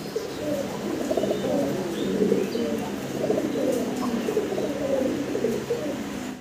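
Several young velvet pigeons coo continuously in soft, overlapping throaty calls, close by, with a faint chirp now and then.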